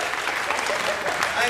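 Audience at a JoCo Cruise shipboard show applauds steadily for a contestant, a dense, even wash of clapping with a talking voice over it throughout.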